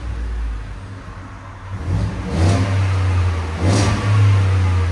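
Deep rumbling exhaust from a 2024 Ford F-150 5.0L V8 through an MBRP universal muffler, rising in two quick revs over a steady idle, loud and close with no voices.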